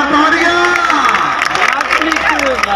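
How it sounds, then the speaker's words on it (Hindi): A packed stadium crowd in Dera bursts into sustained clapping and cheering, a loud, continuous wash of applause mixed with shouting voices throughout. "खुदा के मियां के देखी हुई बात जोरदार तालियां।"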